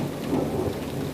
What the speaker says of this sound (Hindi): बारिश अपने जोरों पर बरस रही थी।